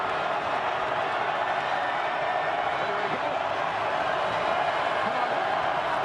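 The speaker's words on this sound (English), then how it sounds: "Crowd comes alive on 3rd down and 8." A football stadium crowd at a UFL game, San Antonio Brahmas at Michigan Panthers, roars steadily on third down, a dense, sustained wash of cheering that holds at one level throughout.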